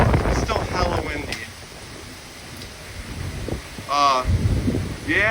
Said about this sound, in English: It's still hella windy.